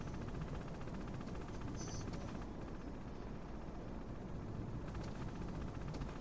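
Helicopter in the Metal Gear Solid video game, a steady broadband rotor and engine roar that runs loud and unbroken throughout, with no speech.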